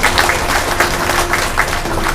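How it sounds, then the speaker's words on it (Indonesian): An indoor audience at a closing session of an intelligence division work meeting claps steadily and fairly loudly for the organizing committee, a dense sustained round of applause throughout. "Aplaus untuk panitia."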